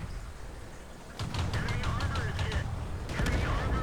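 Tank gun fire in World of Tanks, from a Luchs light tank on the Fiery Salient map: a burst of rapid autocannon shots rings out around the middle, then another salvo near the end over a steady engine rumble.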